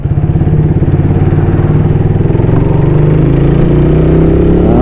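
A motorcycle rides along a city road in Tagum City, its engine droning loud and steady up close with a continuous pulsing rumble throughout.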